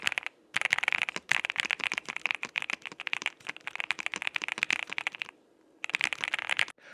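Rapid, crisp clacking of gaming keyboard keys pressed in quick bursts, close and loud, with short pauses between runs of typing.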